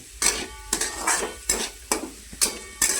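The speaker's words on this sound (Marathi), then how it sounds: "गिरवी करायसाठी कांदा आहे ना तळून घेऊ आपण।" Onion fries in a pan as the base of a paneer masala gravy, a steady sizzle cut by rhythmic scrapes of a spoon stirring about twice a second, near and distinct. No one speaks.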